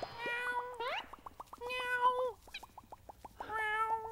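A kitten stuck up a tree gives several high, drawn-out meows in separate bursts, with a light, regular tapping rhythm running underneath and no talking.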